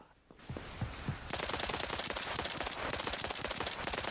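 Rapid bursts of automatic gunfire in the military shooter Arma Reforger, a couple of separate shots first, then a dense sustained rattle of repeated cracks that fills the rest, moderately distant.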